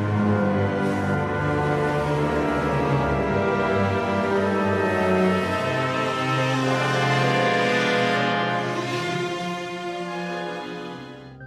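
A full orchestra plays Tchaikovsky's Francesca da Rimini, dense, sustained music with layered strings and brass, loud and continuous throughout.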